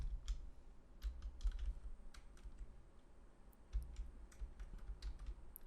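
Python code typed on a computer keyboard, quick irregular clusters of soft key clicks with brief pauses between bursts, close and fairly quiet.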